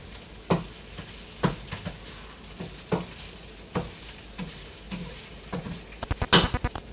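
Tomato paste browns in a hot pan with a continuous sizzle, broken by irregular spoon scrapes and taps against the pan that get quicker and louder toward the end, close up with no talking.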